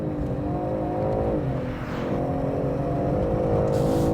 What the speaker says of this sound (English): this engine is just a beast